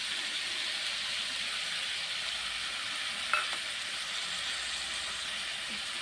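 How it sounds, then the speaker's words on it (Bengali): Spices with coriander powder, a little sugar and ginger sizzle steadily in a frying pan, a continuous hiss with one sharp knock of the stirring utensil partway through. "এখন মিশিয়ে নেব"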